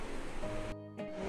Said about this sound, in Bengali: প্রেসার কুকারে আলু সিদ্ধ হচ্ছে